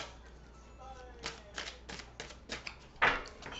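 A deck of oracle cards being cut and handled, giving a string of crisp card taps and slaps spaced about every quarter second, with one sharper snap near the end, close and fairly quiet.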